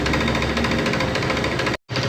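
A motorcycle engine runs steadily at idle after being started, a loud continuous knocking drone that cuts out briefly near the end and then resumes.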